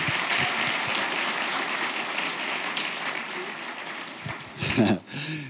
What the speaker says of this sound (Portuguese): Se você recebe isso, aplaude bem forte, com muita fé, em nome de Jesus